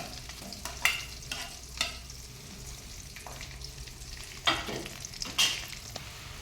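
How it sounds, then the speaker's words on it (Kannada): Onions frying in a pan with curry leaves and a bay leaf, a low steady sizzle broken by several sharp spatula scrapes and stirs at irregular intervals. "ಈರುಳ್ಳಿ ನೋಡಿ ಗೋಲ್ಡನ್ ಫ್ರೈ ಆಗಿದೆ"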